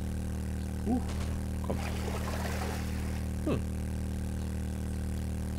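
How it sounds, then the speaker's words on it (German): A motorcycle rides through water in 7 Days to Die (Alpha 19), a steady engine drone with a constant watery rush and splashing, joined by a few brief spoken words. "Das klingt auch cool, wenn man so durchs Wasser fährt mit dem Motorrad."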